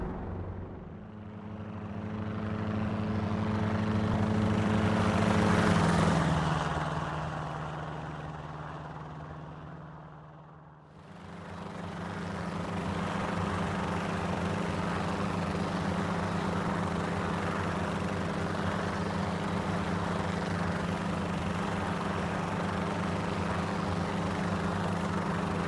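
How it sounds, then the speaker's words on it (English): A helicopter in the X-Plane 11 flight simulator drones on with a steady rotor hum, swelling louder, briefly fading and dropping out, then returning to a constant engine whir. "this helicopter is just perfect for this sort of thing"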